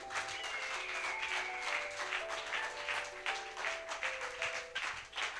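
A church congregation applauding steadily, a dense continuous patter of clapping carried on for several seconds, with sustained musical tones underneath, heard from a moderate distance.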